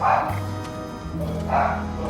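A dog barks twice, muffled from upstairs, with background noise between the barks.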